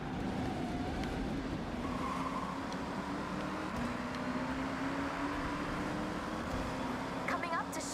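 A van drives in the Forza Horizon racing game, its engine droning steadily with brief tire squeals and passing traffic, under a continuous loud bed of game sound.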